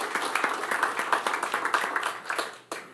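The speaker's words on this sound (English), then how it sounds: "we could clap for that" A small audience at a school board regular meeting claps for the announcement of a new elementary school principal, the individual claps distinct and rhythmic, fairly close, thinning out before a final isolated clap.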